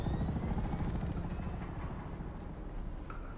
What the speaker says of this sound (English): It's funny you can hear the helicopters outside.